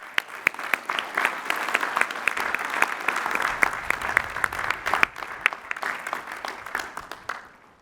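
A large audience at a Lehigh University spring commencement claps steadily for master's degree recipients, a dense, sustained round with sharp individual claps standing out, fading near the end.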